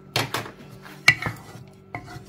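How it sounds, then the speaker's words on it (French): Dough being mixed with oil in a bowl: sharp utensil knocks and scrapes against the bowl in irregular bursts, close and fairly loud, with no talking. "Je mélange."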